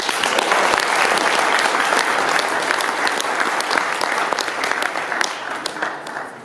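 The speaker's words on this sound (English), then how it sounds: "Another round of applause for Cam and Jamie, please." An audience at the opening and awards of a cannabis business conference in Vancouver claps in loud, continuous applause that lasts the whole stretch and tapers slightly at the end.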